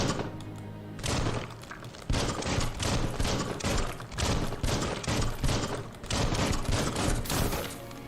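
Rapid, loud volleys of gunfire in the video game Biomutant, sustained bursts of shots with brief gaps, from the same constant close distance with no talk.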